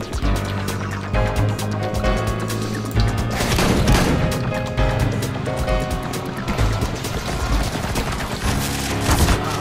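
Rapid gunfire in Counter-Strike: Global Offensive, dense loud bursts of shots crackling continuously, with game sounds layered throughout.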